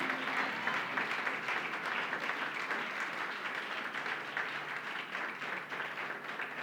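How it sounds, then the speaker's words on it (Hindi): A church congregation applauds loudly for several seconds at a Holy Spirit conference, a steady, dense wash of clapping hands that fills the whole clip without a break. "जोर से ताली बजाओ प्रभु के लिए"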